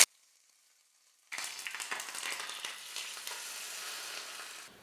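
Mustard seed and curry leaf tempering poured into chutney: after about a second of near silence, a sudden steady sizzle with light crackling and spitting continues close and fairly loud.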